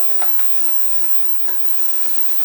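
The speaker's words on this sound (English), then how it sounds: "Gonna add us some garlic to this right now" Garlic sizzles in a hot pan for cauliflower carrot rice, with a soft steady frying hiss broken by several scraping stirs of a utensil at close range.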